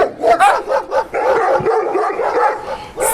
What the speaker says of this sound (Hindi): सभी कुत्ते उसका पीछा करने लगे।